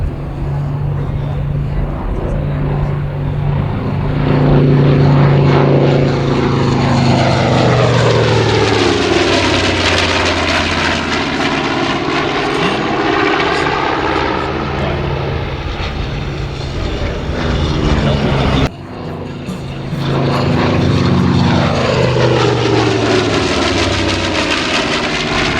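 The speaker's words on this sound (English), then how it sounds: "Ward, listen to this airplane as it comes by here." A WWII-era propeller airplane at an airshow roars past, building from a distant drone to a loud close pass with sweeping pitch shifts, then a second loud sweep after a brief dip.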